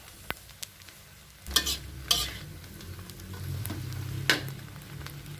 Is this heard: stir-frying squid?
yes